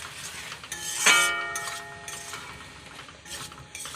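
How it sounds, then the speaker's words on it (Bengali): Spiced potatoes with turmeric and chilli powder stirred in a kadai for Bengali aloo dum, giving metallic clinks and a bright ringing scrape against the pan, one sharp clang near the start, then quieter scraping. "এবার আমি এটাকে নাড়ব"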